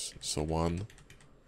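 Keys on a computer keyboard are tapped in quick succession while someone speaks over them, the clicks soft and close.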